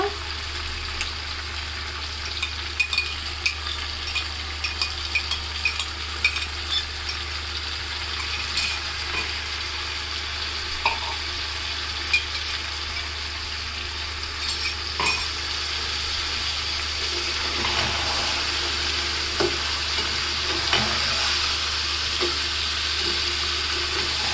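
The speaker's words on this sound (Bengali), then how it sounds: "এখন একটু কষাবো তারপর ঝোল দিয়ে দেবো" Chicken with yogurt sautéing in a pan, a loud continuous sizzle broken by scraping stirs and occasional clinks of the spoon against the pan, close up and with no one talking.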